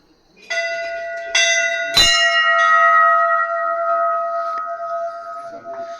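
Metal bells ring out at the Golu Devata temple in Gairad, several loud strikes with bright overlapping tones that hang and shimmer, with no voices.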